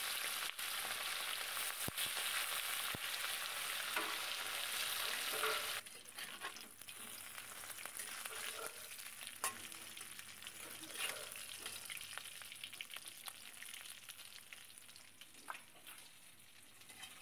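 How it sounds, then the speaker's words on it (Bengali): Khoira hilsa fish fry crisp in oil with a dense, crackling sizzle, louder at first and then quieter and steadier, with occasional spatters and stirring sounds. "মাছগুলো বেশ কড়া করে ভেজে নিতে হবে।"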